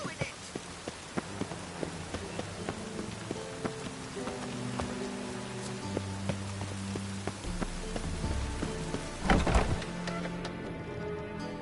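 Rain falls in The Witcher, a steady patter of drops with frequent sharp taps on nearby surfaces, under soft background music with a brief louder thump near the end.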